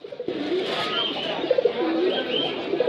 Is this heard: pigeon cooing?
yes